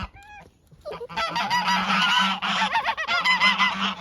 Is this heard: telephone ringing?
no